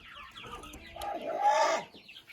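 A young hen clucks close by, a run of short throaty clucks rising into a louder drawn-out squawk before trailing off.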